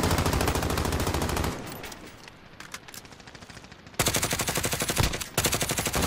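Bursts of automatic gunfire from two squads fighting at a buy station in Call of Duty: Warzone, loud sustained rattling that drops to quieter scattered shots before another heavy burst resumes.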